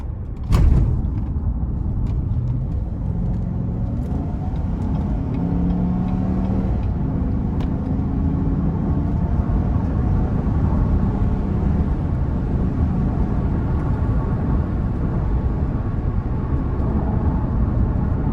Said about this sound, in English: Yeah, it's a really good sound coming from the vehicle. I really like that throaty undertone.